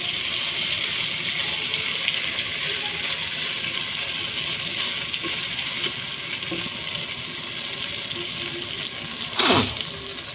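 Water rushes steadily into a pan of red chicken bhuna, a continuous loud hiss of pouring liquid that ends in a brief splashing gush near the close, with no talking.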